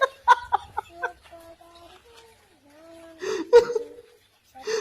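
A chicken clucks and squawks in short, uneven bursts close by, with a few higher cries and brief quiet gaps.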